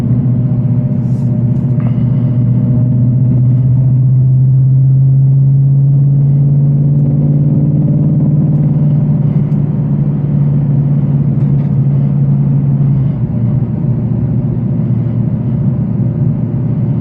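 An 810-horsepower Whipple-supercharged Ford Mustang GT350 rumbles with a loud, steady low drone from its engine and exhaust set to drag strip mode, holding a constant pitch and then loosening slightly near the end.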